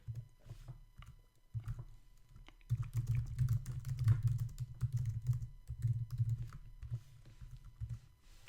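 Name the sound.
typing on a computer keyboard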